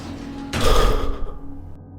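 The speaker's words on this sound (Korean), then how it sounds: "집으로 들어오자 기다리고 계시던 어머니가 이내 현관문을 꽝하고 닫으셨다." A front door slams shut with one heavy, close thud that rings out briefly and then fades into near silence.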